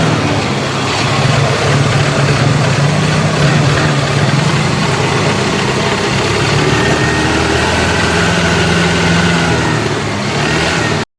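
A Honda Activa scooter engine, freshly rebuilt and at full throttle, runs close by with a continuous, throaty buzzing drone that holds steady throughout.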